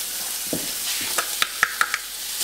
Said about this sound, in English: We're going to saute the garlic for just about 30 or 45 seconds